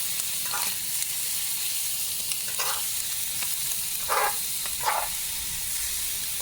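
Chicken fried rice with shrimp sizzles and fries steadily in a pan, a constant hiss broken by a few short stirring scrapes.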